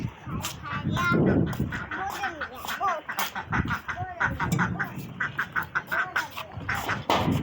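Pet ducks quack repeatedly close by in rapid, overlapping calls, while someone talks over them throughout.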